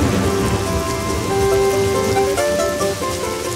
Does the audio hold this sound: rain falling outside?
yes